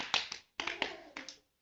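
Hands clapping in quick groups, about nine sharp claps in three short bursts separated by brief gaps, fairly faint and close, with no talking.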